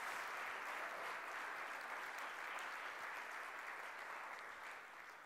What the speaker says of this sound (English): Can you have that big round of applause?